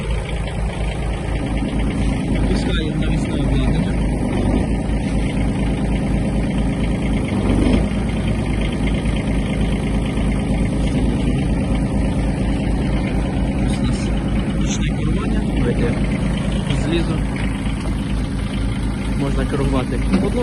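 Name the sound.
Kubota GB-135 Japanese mini tractor engine starting and idling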